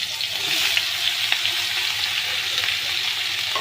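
Bottle gourd pieces hit hot oil for a shrimp and gourd curry, giving a steady, dense sizzle and crackle with a few sharper pops and light stirring scrapes, close and fairly loud throughout.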